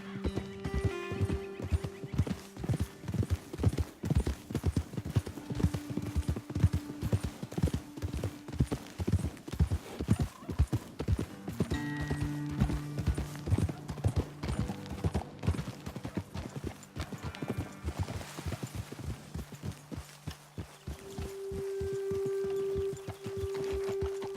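Rhythmic clip-clopping hooves of horses trotting steadily in Red Dead Redemption 2, with occasional whinnies and sustained musical tones underneath throughout.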